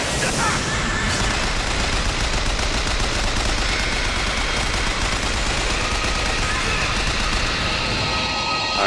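Rapid gunfire from Bioshock Infinite, dense bursts of automatic shots and blasts filling the whole stretch at a loud, steady level with battle noise layered throughout.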